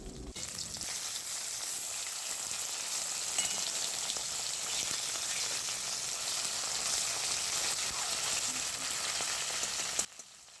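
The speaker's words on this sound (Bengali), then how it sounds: "নুন হলুদ মাখানোর পর তেলে মধ্যে লাল লাল করে ভেজে নেওয়া হবে" Parshe fish rubbed with salt and turmeric fry in hot oil, a steady, bright sizzle with fine crackling that holds evenly for about ten seconds before cutting off abruptly.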